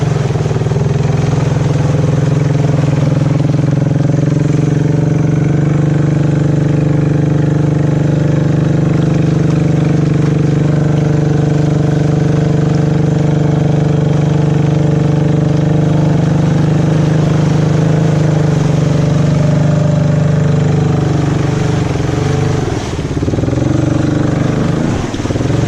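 A Honda 300 four-wheeler churns through a backyard swamp, its engine holding a steady, loud low drone close by for the whole stretch, with slight dips and surges near the end.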